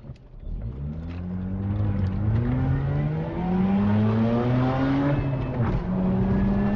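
A Mazda RX-8 rotary engine draws nearer and revs hard, its loud rising, sliding engine note building steadily and holding close for several seconds, with no voices.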